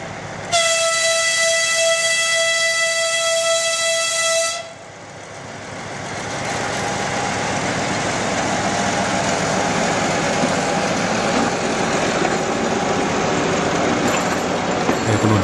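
A loud, sustained train horn blasts for about four seconds, then a heavy diesel locomotive rumbles and wheels roll steadily as a ten-car sleeper train departs in Ukraine.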